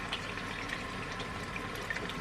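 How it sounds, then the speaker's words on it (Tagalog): Water runs steadily from a tap in a home in Sweden, a faint continuous hiss and splash with no voices. "Patayin na natin yung tubig."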